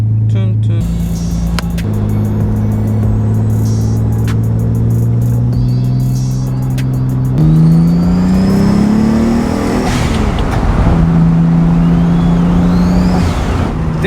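Car engine revving and pulling through gears while driving, loud and close, pitch climbing and dropping between shifts, with road and cabin noise underneath.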